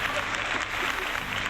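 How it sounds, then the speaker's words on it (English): Background applause inserted into a talk show intro, a short continuous burst of crowd clapping at steady volume. "Insert background applause"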